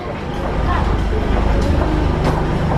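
A train rumbles into a glass-enclosed London station platform, a loud steady rolling roar with rhythmic wheel clatter and brief brake hisses, heard up close.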